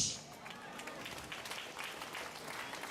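A church congregation claps and applauds together in a steady, continuous wash of hand claps that holds at an even level throughout.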